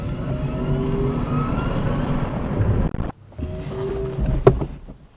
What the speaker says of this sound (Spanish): vamos a ponerlo en modo Sport y vamos a ver la aceleración que tiene esto